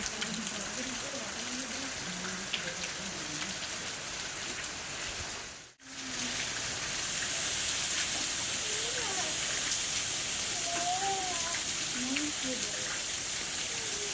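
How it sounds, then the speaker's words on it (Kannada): Rain falling steadily in Madikeri, Coorg, a constant broad hiss heard under intermittent talking, with a brief dropout partway through before it continues. "ಆಲ್ರೆಡಿ ಮಳೆ ಸ್ಟಾರ್ಟ್ ಆಯಿತು"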